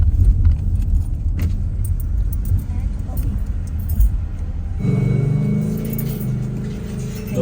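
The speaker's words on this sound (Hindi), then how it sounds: "उसके अंदर सिक्के फेंके 75 सेंट" Coins jangle as they are tossed into a highway toll basket, a brief metallic clatter from inside a car over steady road and engine rumble, with people talking.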